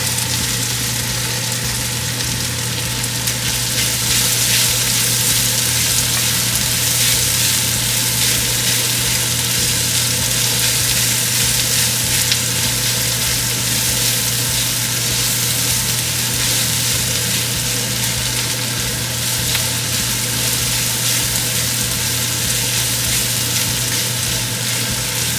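Garlic sizzling in a hot pan for fried rice, a steady, loud, continuous frying hiss with no pauses and no voices.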